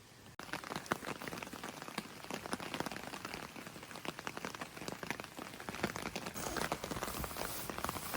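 Rain patters steadily onto a tarp strung over a hammock at a solo camp, a dense, close, crackling spray of drops that swells slightly louder toward the end, with no voices.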